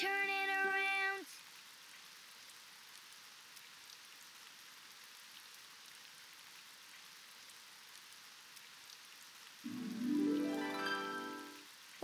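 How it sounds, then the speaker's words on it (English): Steady, faint rain hiss in the Daniel Tiger's Neighborhood video game runs between two short bursts of bright musical chimes at the start and end. "Oh, it's raining outside."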